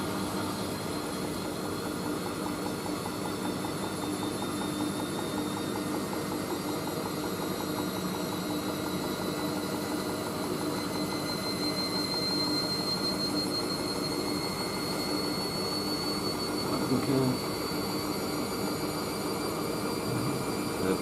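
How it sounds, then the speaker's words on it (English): Hoover AAA160 washing machine drum spinning on a synthetics cycle at 50°C, a steady droning whir with faint rising whine tones, continuous and moderate in level throughout, no voices. "The intermediate spins are only at 400 RPM."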